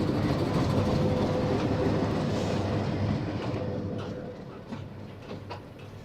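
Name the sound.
train arriving at Kaunia junction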